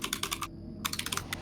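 Rapid typing on a computer keyboard during a Voices of the Void game stream, two quick bursts of close, crisp key clacks separated by a brief pause.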